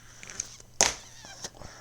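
A domestic cat gives a short, fairly close meow in the middle, with a few faint rustles and clicks around it in an otherwise quiet room.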